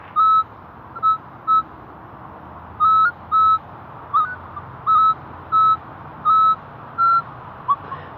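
A metal detector sounds its target signal tone behind an old house, a loud run of about a dozen short, clean electronic beeps in an uneven rhythm over faint background hiss.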